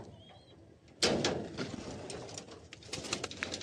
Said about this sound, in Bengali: তো হলেও দুটো পায়রা ছেড়ে একটু টেস্টিং করে দেখি দাঁড়ে কেমন বসে।